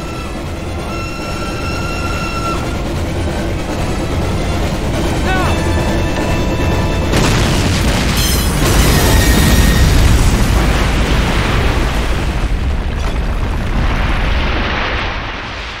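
Detonated charges blowing up in the World War II shooter Call of Duty: United Offensive: a loud, close blast rolls into a long, rumbling roar that slowly fades over several seconds above a constant background drone.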